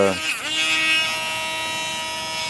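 Electric nail grinder buzzing against a dog's nails, a steady high motor whine that starts abruptly and stays close and even throughout.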